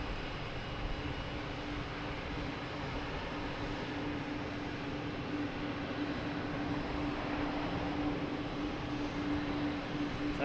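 An airliner in JetBlue Vacations livery at Boston Logan Airport gives a steady, dense engine rumble with a faint sustained hum, holding even in loudness throughout at moderate distance, with no voices.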